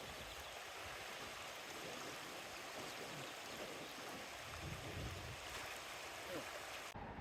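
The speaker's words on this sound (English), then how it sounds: "Look at the Walker River, Kellie." Fast-flowing Walker River in Nevada rushes in a steady broadband wash, continuous and fairly near, with no talk over it.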